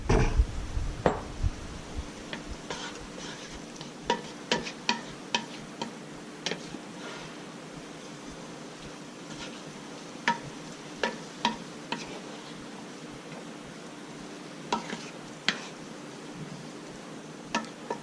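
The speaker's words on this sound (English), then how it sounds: "We're just going to saute that for a few minutes until the vegetables get soft and the onions get kind of translucent" Onions and vegetables sauté in a pan, giving a low, steady hiss dotted with sharp, irregular crackles and pops throughout.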